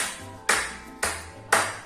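Three sharp hand claps in body percussion, evenly spaced about half a second apart, close and crisp, with a faint low hum beneath them.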